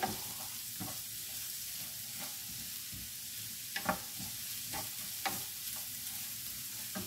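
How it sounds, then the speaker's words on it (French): Two onions sautéing in a pan, a steady soft sizzle broken by several sharp scraping stirs, moderately close and with no talking. "Ça fait beaucoup d'oignons, je trouve, hein, 2 oignons comme ça. Je vais bien les laisser revenir."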